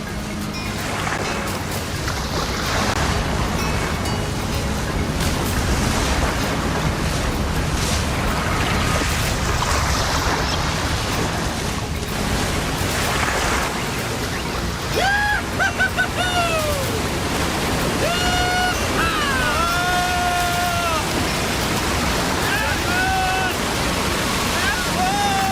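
Rough open water sloshing and surging around a paddled canoe, a loud steady wash of waves, with people calling out over it in the second half.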